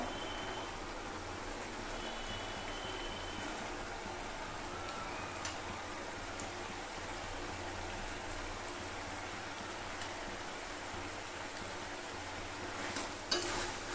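Shrimp that were fried earlier are stirred into a covered, simmering banana-flower curry. A continuous, even hiss and bubbling runs throughout, with faint scrapes and a small clatter near the end. No talk is heard.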